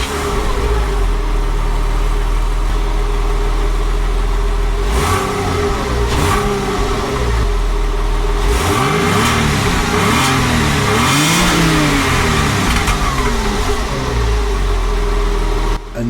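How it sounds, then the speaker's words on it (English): An old stock exhaust on a Porsche revs hard again and again, swelling and falling in loud close blips over a steady idle, with no one talking. "I'll show you what the old one sounded like so you've got a bit of a comparison."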